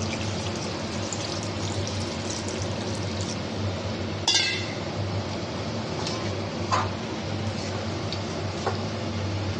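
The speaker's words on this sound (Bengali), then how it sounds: "এবারেতে আমি পরিমাণ মতন জল দিয়ে দেবো" Water is poured into a pot of chicken khichdi made with gobindobhog rice: a steady, close splashing pour runs throughout, with a few brief clinks of utensils or glass partway through.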